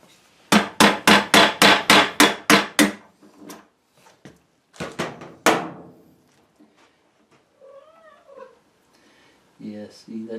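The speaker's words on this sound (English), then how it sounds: "Grab the hammer." A hammer striking an old wood door, about nine sharp, evenly spaced knocks in quick succession, then a few scattered louder blows, with a cat meowing nearby afterward.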